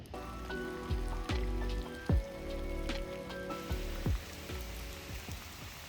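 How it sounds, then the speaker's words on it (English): Rain patters steadily on a surface close by under a leafless tree outdoors, with irregular drips and heavier drops knocking through the constant wash. "It is raining."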